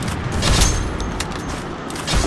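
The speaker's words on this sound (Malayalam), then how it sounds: "ഞാൻ അങ്ങോട്ട് വെടി വയ്ക്കുന്നതിന് മുമ്പ് അവ ഇങ്ങോട്ട് വെച്ച്" Rapid bursts of gunfire in the video game Free Fire, sharp cracks stacked over a dense, loud, continuous rumble of battle noise.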